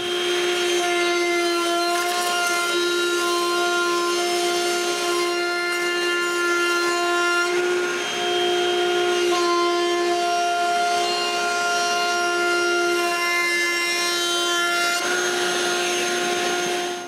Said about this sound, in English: This means that now I can route the edge profile.